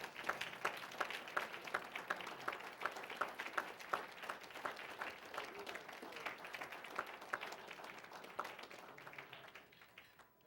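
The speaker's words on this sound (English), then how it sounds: "Let's give them a round of applause." Guests at an honorary degree dinner applaud, a continuous spread of clapping heard from some distance at a fairly soft level, steady for about ten seconds before fading slightly at the end.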